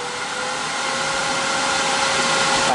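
Laguna wood lathe spinning at its top speed of around 3,000 RPM, a steady, even high-pitched whir with fan-like rushing noise, close and constant throughout with no talk.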